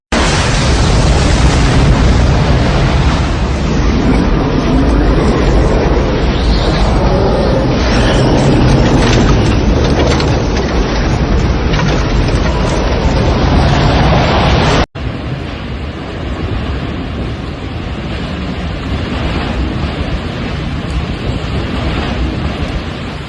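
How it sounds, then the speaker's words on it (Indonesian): Tornado winds tear through a village, ripping at house roofs: a relentless, loud, roaring rumble of wind buffeting the microphone, unbroken for over twenty seconds with a sudden shift partway through. "Contoh bencana alam, angin puting beliung"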